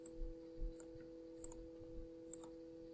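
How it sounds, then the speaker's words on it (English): Sharp computer mouse clicks sound while lines are deleted in Ortho Blue software, several quick isolated clicks, some in close pairs, against a faint steady hum and soft background noise. "So I'm going to click on this line now, press delete on your keyboard for all of these lines."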